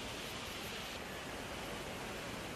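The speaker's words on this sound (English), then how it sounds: "See how beautifully it is falling down." Athirappilly Waterfalls on the Chalakudi river pours down in a steady, even roar of falling water with no breaks or other sounds.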